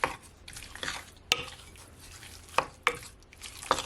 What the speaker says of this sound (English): So now I'm just gonna mix it all in.